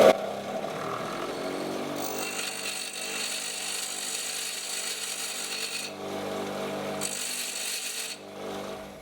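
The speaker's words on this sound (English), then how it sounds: "Let's just clean up the cut edge on the bench grinder." A bench grinder cleaning up the cut edge of a Ford Transit MT75 gear stick: a steady whining hum with intermittent harsher rasping pushes of metal against the wheel, fairly quiet and without talk.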